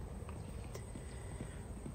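Marwari horse hooves clip-clop at a walk along a narrow path, a steady close rhythm of soft thuds under faint background hiss, with no voices.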